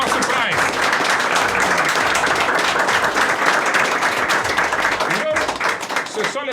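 A stadium audience applauds a guest at the Allianz, sustained loud clapping and crowd noise filling the whole stretch with a voice speaking over it.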